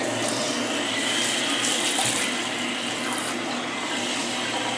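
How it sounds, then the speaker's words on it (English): Warm water gushes steadily from a tap in a strong, continuous rush, close and loud, with no talking, while a cat is bathed. "we can turn the water on so it's nice and warm."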